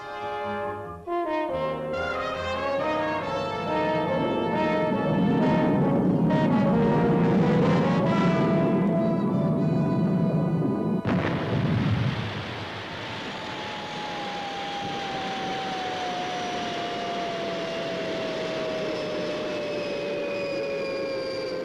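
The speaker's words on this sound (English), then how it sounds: "Retros fired. Approaching landing pad." Retro rockets of the spacecraft Fireball XL5 fire for a landing: a loud, steady roar lasts about eleven seconds, then cuts off, leaving a long, steady whistle that slowly falls in pitch. No one speaks.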